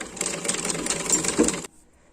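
A sewing machine stitching a dress runs in a quick, rattling burst for about a second and a half, then stops abruptly into near silence.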